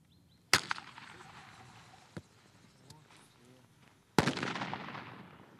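Grenade explosions at a military training ground near the village of Yuliivka: two sharp, loud blasts a few seconds apart with a smaller bang between, their echoes fading under faint voices.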